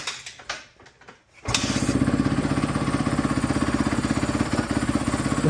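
A 2017 Honda CRF250R dirt bike, starting after sitting in storage, catches after a few faint cranking sounds and settles into a steady, fast-pulsing idle close by.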